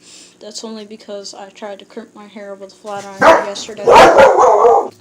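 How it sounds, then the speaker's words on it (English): Several dogs bark and yip in quick repeated bursts, first in a regular series and then in louder overlapping barks, while someone talks over them at close range. "So sorry about that barking, that was just my brother's dogs."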